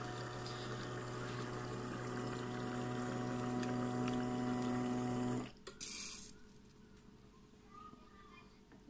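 Arçelik double-chamber coffee machine pumping water: a steady mechanical hum with a tonal whine for about five seconds, then it cuts off, leaving faint gurgles, a short hiss and soft clicks nearby.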